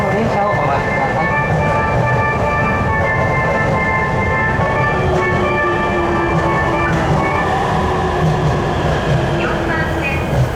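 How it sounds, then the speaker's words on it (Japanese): Yamanote Line extra train bound for Shinagawa, heard as a steady loud rumble of the running train with tonal whine from motors throughout, under faint onboard announcement voice. "臨時電車品川行きです"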